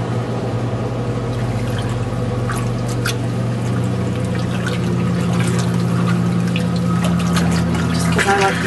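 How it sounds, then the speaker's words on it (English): Water poured out of a cooking pot while steaming Pueblo chile, a steady splashing, trickling stream running for several seconds close by over a constant low hum. "Get rid of this water"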